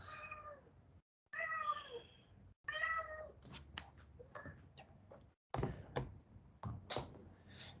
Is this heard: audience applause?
no